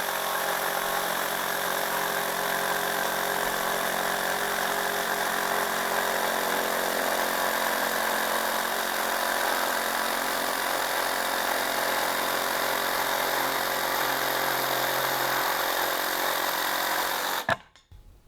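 A cheap Corebilt cordless jigsaw running steadily with a dense, high buzzing drone, loud and close, holding level for about seventeen seconds before cutting off abruptly.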